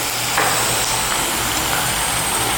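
Peanuts with chana dal frying in a pan of hot oil, a steady hiss and crackle of sizzling that continues evenly throughout without talk.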